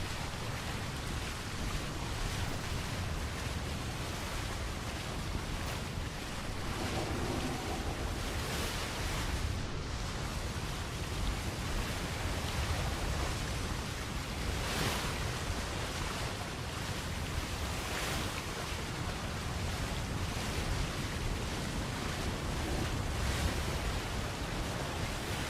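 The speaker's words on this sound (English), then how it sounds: "Let the wind settle in." Wind and surf in a video game form a steady, broadband wash of noise with soft surges throughout, no voices present.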